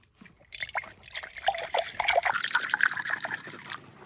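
Water trickles and splashes into a container outdoors at a cemetery, a steady pouring stream that rises in pitch as the vessel fills, close and clear with no talk.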